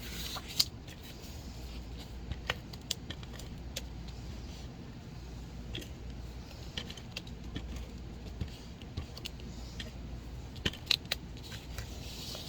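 Scissors cut through a sheet of patterned paper for a farm-themed card background, a string of light, crisp snips over a steady low room hum.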